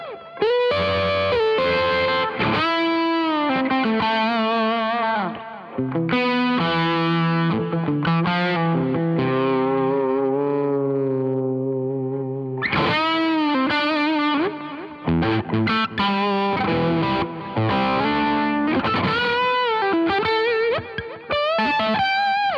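Electric guitar through a Marshall DSL20H amp with delay, playing a distorted, sustained melodic lead line with bends and held notes, loud and continuous with echo trails.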